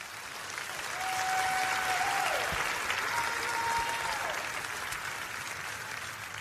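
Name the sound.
church congregation applauding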